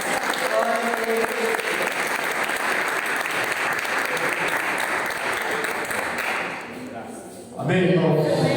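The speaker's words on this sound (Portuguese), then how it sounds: "E as palmas louvam o Senhor Jesus." A church congregation claps its hands in praise, with sustained, dense applause filling most of the stretch, easing briefly before swelling again. A voice sounds over it.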